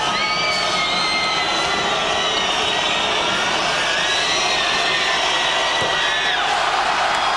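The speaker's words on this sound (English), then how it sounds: "Crowd loves that miss." A packed arena crowd at a Euroleague basketball game between Dynamo Moscow and Benetton Treviso roars and whistles loudly after a missed shot, a continuous, full-volume wall of cheering.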